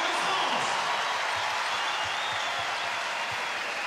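Cheering and applause from a crowd at a women's EuroBasket basketball game between France and Belarus, a broad steady wash of clapping that fades slightly over a few seconds.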